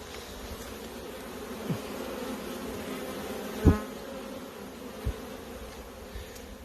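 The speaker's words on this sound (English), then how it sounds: "and we have lots of bee going on." Honey bees buzz steadily around hives in Michigan on a sunny spring afternoon, a soft continuous drone with a few individual bees passing close by, one louder fly-past in the middle.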